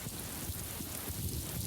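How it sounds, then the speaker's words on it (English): Steady rain patters on a surface, a dense, even hiss of drops with a low rumble underneath, continuous and fairly close throughout. "As we walked back to the bus, we felt a drop of rain."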